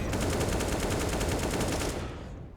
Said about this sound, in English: Wall bangs coming out left and right, but nobody connecting at all.